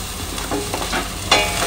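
Onions sizzling in a frying pan with a steady hiss and occasional stirring scrapes, close up and with no voices.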